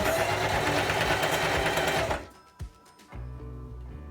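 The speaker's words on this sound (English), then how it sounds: "want to have your machine just on a basting stitch. I have mine on number 4." A sewing machine runs a basting stitch along the sleeve hem of a T-shirt dress, whirring loudly and steadily for about two seconds, then stopping with a few mechanical clicks and a faint low hum.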